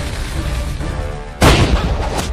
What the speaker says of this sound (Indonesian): Beta bisa mendengar ledakan meriam lagi.